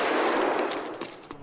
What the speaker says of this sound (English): Shooting inside Black Knight.